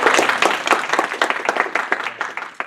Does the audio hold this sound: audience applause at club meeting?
yes